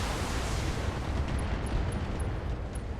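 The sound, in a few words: mech ammunition explosion in BattleTech video game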